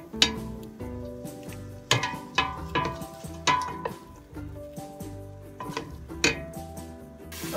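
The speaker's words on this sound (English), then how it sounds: "I'm going to add our garlic and just keep sauteing them" Garlic sautéing in a metal pot for Filipino chicken sopas, with repeated sharp clanks and scrapes of a utensil against the pot over a low, soft sizzle.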